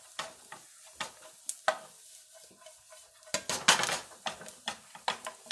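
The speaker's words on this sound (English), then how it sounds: "we need to caramelize the onion so that we can get the fruity flavor in the curry" Onions fry and caramelize in a pan for a curry, giving a light sizzle broken by repeated rhythmic scrapes and taps of a utensil against the pan, with a busier burst of stirring midway.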